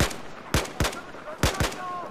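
Gunfire in the Battlefield 4 video game: five sharp, loud shots in an irregular rhythm, some in quick pairs, each with a booming tail.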